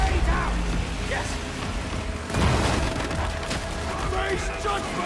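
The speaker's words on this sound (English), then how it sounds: "Grenade out" Grenade thrown and exploding in Warhammer 40,000: Darktide, a loud boom burst amid a dense clatter of gunfire and combat noise, close and heavy, with a voice speaking over the din.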